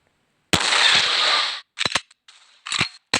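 A Minecraft rocket launcher fires and explodes in a sharp blast with a sustained crackling burst, followed by several shorter, clipped pops and bangs at close range.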